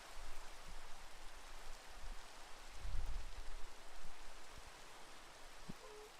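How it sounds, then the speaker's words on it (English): Steady rain falls in the Minecraft 1.12.2 game world, a soft continuous hiss of drops with a faint low rumble swelling near the middle, heard alone without speech. "Let the rain pass by."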